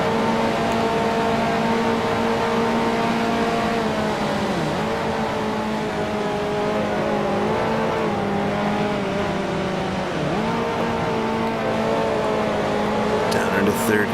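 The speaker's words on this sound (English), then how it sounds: "down into 3rd gear for Stavolo. Got it throttle pegged. Want to keep it in 3rd gear though." Race car engine at a steady high drone as the driver shifts down into third gear with the throttle pegged through a corner, the pitch dipping briefly at each shift, with continuous talk over it.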